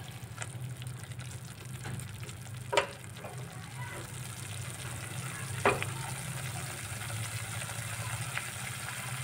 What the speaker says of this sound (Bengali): এবার 10 মিনিট মশলাটাকে আমি কষিয়ে নিচ্ছি